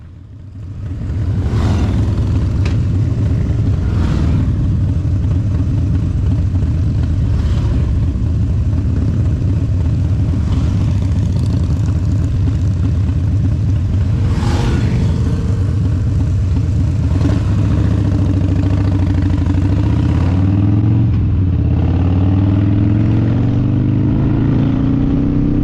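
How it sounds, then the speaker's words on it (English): Motorcycles ride a twisty road near the Manukau Heads, giving a loud, continuous engine rumble that rises and falls with throttle changes and gear shifts, close to the rider with steady wind noise and no talking. "let's be quiet for a bit and let the bikes have the centre stage."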